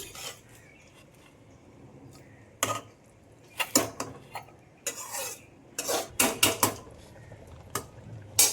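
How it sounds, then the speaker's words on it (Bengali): A metal pressure cooker lid is set on and closed over boiled pumpkin, with a series of sharp clanks and scrapes in uneven bursts over a quiet background. "এবারে প্রেসার কুকারের মুখটা ঢাকনা দিয়ে বন্ধ করে দিচ্ছি।"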